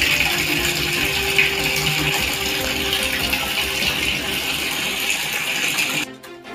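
Village water tap running with a strong, steady gushing flow for several seconds close by, then abruptly quieting near the end.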